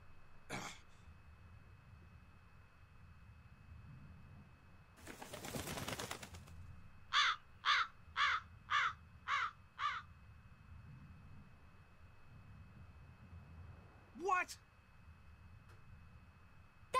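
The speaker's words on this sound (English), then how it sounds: "I can't even win against a crow!" Crows cawing in the video game Tales of Berseria: a single caw, then a quick run of five evenly spaced harsh calls, and one more caw later, clear and fairly loud over a quiet background with a short burst of noise.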